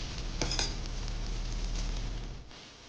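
Onion and green chili fry in a pan with a steady, close sizzle. A couple of quick utensil clinks come early, and the sizzle fades out at the end.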